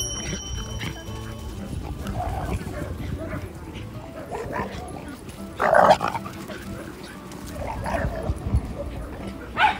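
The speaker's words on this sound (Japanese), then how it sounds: "そんな遠くから吠えても" A dog barks at a dog run, a few sharp barks and yips rising over steady outdoor background noise, with people talking nearby.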